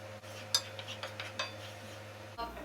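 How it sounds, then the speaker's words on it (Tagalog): Onion and garlic sautéed in oil in a pan, with soft clinks and scrapes of a utensil stirring over a steady low hiss, fairly quiet and close, ending in a brief clatter. "Igisa natin yung onion, itong garlic."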